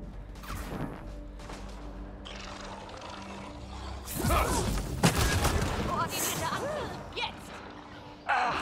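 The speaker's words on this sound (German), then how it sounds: "Und das für eine fette Explosion." Explosion in the sci-fi video game Mass Effect Andromeda: a sudden loud burst of blast noise with a crackling, rumbling tail, following quieter game sounds and ending with a second hit.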